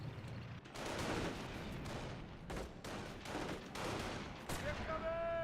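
Gunfire in Company of Heroes, a series of sharp cracking shots and bursts spaced through a busy battle din, fairly faint overall, with voices present.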